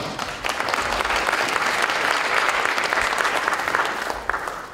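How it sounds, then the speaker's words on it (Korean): An audience at a school anniversary ceremony applauds warmly and steadily for several seconds, a dense wash of clapping that stays even and loud throughout. "큰 박수로 맞이해 주시기 바랍니다"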